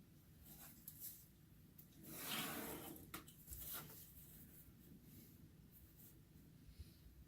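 Pen strokes scratching across a paper pattern for a rifle sling, drawing a long strap line down the center; soft intermittent scraping with a louder rubbing burst midway, close and quiet, with no talking.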